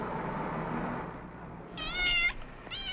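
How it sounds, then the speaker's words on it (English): A cat that has been locked out meows outdoors, with one drawn-out plaintive meow and the start of a second, over a steady murmur of background noise. "Your cat seems to have gotten itself locked out."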